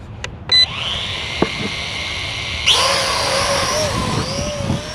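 A Holy Stone HS140 budget camera drone beeps, then spins up its rotors into a loud, steady high-pitched whine that rises sharply as it lifts off, with shifting pitch as it hovers close by.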